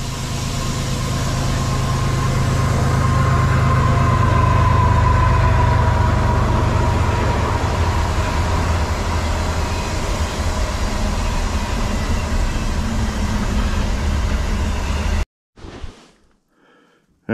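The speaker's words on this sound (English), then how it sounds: "we got another train coming by" A train rolls past a camp beside a railroad track with a loud, sustained rumble and a faint steady whine. The noise swells and holds for about fifteen seconds, then cuts off abruptly into near silence.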